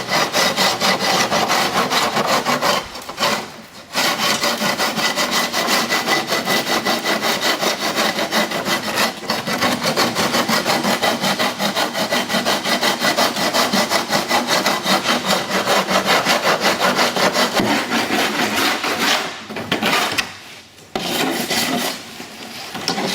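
Hand sanding on an aircraft engine cowling during a Viking Aircraft 130 engine installation: steady, close rasping strokes run almost nonstop, broken by short pauses near the start and toward the end, with no talk.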